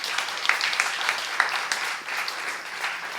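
A church youth congregation claps during a sermon, a short burst of many hands clapping close by with a few sharper individual claps standing out, steady for a few seconds.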